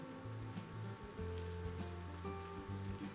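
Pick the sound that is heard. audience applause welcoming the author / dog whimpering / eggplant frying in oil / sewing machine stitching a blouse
eggplant frying in oil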